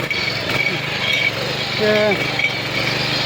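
A power weeder's small engine runs steadily and loudly close by while ploughing a field, a buzzing drone with a brief rising pitch sweep, as someone speaks over it.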